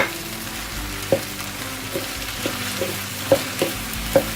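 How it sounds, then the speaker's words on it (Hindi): Okra fries in hot oil over a medium flame, giving a soft, steady sizzle. Sharp metallic clinks of a stirring spoon against the pan land every second or so, and no one speaks. "इसको 5 से 10 मिनट के लिए हम मीडियम आंच पे फ्राई करेंगे"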